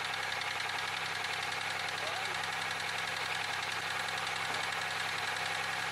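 A Chevy Malibu engine runs steadily after being started, a constant loud mechanical drone with a knocking texture that fills the whole stretch without pause.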